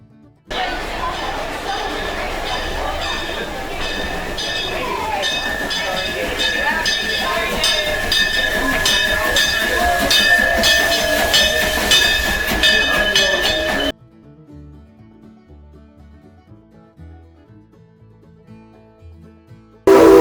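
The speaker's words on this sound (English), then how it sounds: "The first thing we would do was ride on the train since we didn't ride the day before." A ride aboard a Branson park railroad train, with steady rolling rumble and rattling carriages and people chattering nearby, then an abrupt drop to quiet near the end.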